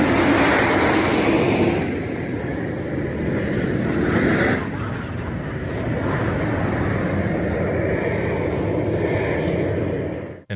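Italian Air Force MB-339 display jet flying overhead, a steady loud roaring rush of engine noise with wind, sustained throughout and ending abruptly.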